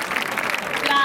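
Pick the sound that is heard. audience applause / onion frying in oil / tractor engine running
audience applause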